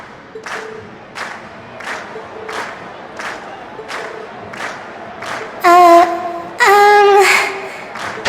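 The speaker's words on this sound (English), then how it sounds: "we've heard your cheers loud and clear" A festival concert crowd in The Legend of Heroes: Trails of Cold Steel chants in a steady rhythmic pulse, then breaks into two louder bursts of cheering, with a voice clearly calling out over the noise.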